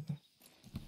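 A horse's hooves clop softly in Red Dead Redemption II, two faint, muffled steps about half a second apart in a quiet scene.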